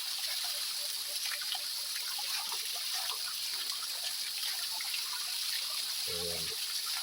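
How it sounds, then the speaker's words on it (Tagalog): Strong stream water rushing steadily in rainy season, a continuous hiss heard at moderate distance with no break, a faint voice briefly surfacing near the end. "mapapansin nyo yung tubig ay napakalakas dahil sa ngayon ay tag-ulan"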